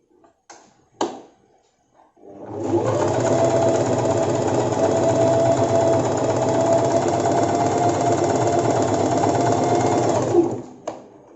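Sewing machine stitching a petticoat cut from a saree runs in one steady, close, loud burst of about eight seconds, with a few faint handling knocks before it starts and after it stops.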